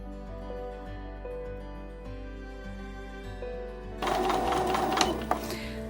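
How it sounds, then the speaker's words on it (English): A sewing machine stitches a quilt block seam, a steady mechanical hum with a brief pause, then louder, busier stitching near the end. "I'm just going to sew down this line on the right hand side."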